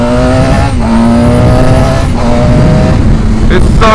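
An old 750 motorcycle being ridden, its engine droning loudly and steadily close by, with brief dips as gears change and a quick rev burst near the end.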